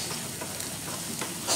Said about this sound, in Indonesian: Kita aduk-aduk lagi ya.